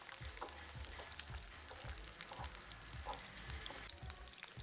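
Green peas fry in hot oil in a pan, a faint steady sizzle with rhythmic low stirring scrapes repeating roughly every half second, quiet and close, no speech.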